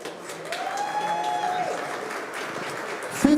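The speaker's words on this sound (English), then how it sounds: "Let's give a round of applause" Audience applause at an armwrestling tournament, a steady wash of clapping sustained for about three seconds at moderate distance, with a brief louder burst near the end.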